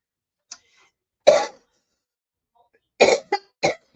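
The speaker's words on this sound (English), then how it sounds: "I don't know why I'm coughing." A person coughs alone in a quiet room: one short cough, a pause, then a harsher cough, and after a longer gap a close cluster of three quick coughs.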